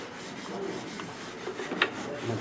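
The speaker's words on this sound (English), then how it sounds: "So I'm going to start with 80 grit sandpaper." Guitar fingerboard being sanded with 80 grit sandpaper on a sanding block, a soft continuous rubbing and rasping scrape close by.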